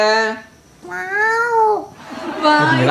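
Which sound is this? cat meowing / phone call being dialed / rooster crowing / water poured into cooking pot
cat meowing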